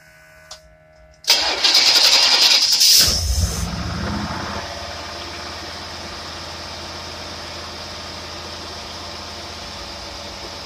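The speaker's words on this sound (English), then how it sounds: "We're going to try to crank it up and see what it does." A Pontiac engine fitted with a Carter AFB carburetor cranks briefly on a cold morning, then catches and fires loudly before settling into a rough, steady idle with the choke on.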